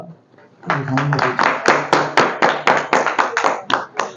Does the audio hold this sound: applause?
yes